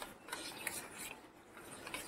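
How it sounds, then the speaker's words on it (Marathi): Jaggery being mixed with chaat masala in a bowl, a steady close scraping and rubbing with small gritty scratches that repeat throughout, fairly quiet, no talking. "गुळ चांगला मिक्स करायचा"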